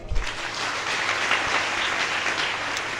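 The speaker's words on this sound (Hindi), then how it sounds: "तो अब ताली बजाइए।" An audience at a religious gathering breaks into dense, sustained applause that fills the whole stretch at a steady level.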